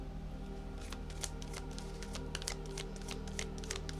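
Tarot cards are shuffled at close range in a steady series of soft slaps and riffles over a constant low background hum.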